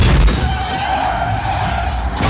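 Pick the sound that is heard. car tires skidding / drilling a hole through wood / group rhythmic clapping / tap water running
car tires skidding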